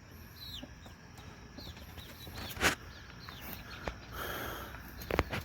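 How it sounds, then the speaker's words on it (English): Baby chickens perch on a roost in a coop, giving short high cheeps scattered over quiet background rustle, close and fairly soft. "Look at them all perching up on the roost."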